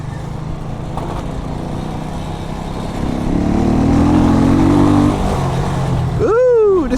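Jamco motorbike fitted with an Eagle engine revving up close, engine note swelling from about three seconds and holding strong, ending with a quick rising whine; a voice speaks briefly in the background.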